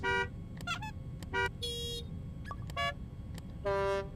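A string of short electronic kart horn blasts in varied tones from the game LittleBigPlanet Karting, some quick beeps and some longer held honks, with brief gaps between them.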